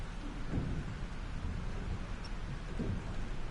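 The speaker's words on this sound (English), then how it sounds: "This storm's real." Thunderstorm in the Life is Strange video game: heavy rain pours steadily while low thunder rumbles swell twice, fairly loud and close, with no speech.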